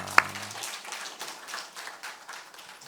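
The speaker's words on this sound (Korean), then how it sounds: "한 번 더 박수하겠습니다." During an Easter Sunday church service, the congregation claps in a light, scattered rhythm of soft repeated hand slaps, fairly quiet and uneven, opening with one sharp clap.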